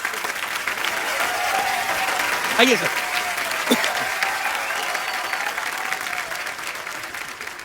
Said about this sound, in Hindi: एक बार जोरदार तालियां बच्चा के लिए, जोरदार तालियां सुशील कुमार के लिए